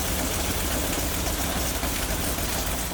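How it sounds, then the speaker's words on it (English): Old radial petrol engine of a Canadian Ram Kangaroo armoured vehicle, smoking and spraying oil, runs loud and close as a steady, dense, rumbling roar with no pauses. "It's also never a bad idea to run these old petrol engines whenever we can."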